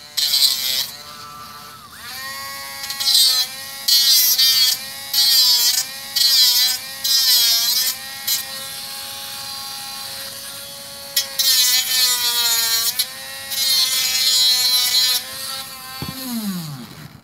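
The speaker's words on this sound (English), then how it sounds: "Come back in with our grinding wheel here and grind it off." A hand-held grinding wheel works down a slot car body during restoration, buzzing loudly in repeated short bursts with brief pauses, its pitch wavering as the wheel bites the part, up close and with no talk.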